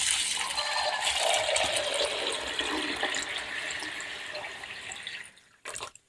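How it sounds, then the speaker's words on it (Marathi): Water pouring into a large batch of two kilograms of sago pearls for making papad, a steady splashing rush that stays loud for about five seconds before tapering off, followed by a brief trickle near the end. "आता त्याच्यामध्ये आपण पाणी ॲड करून घेऊ"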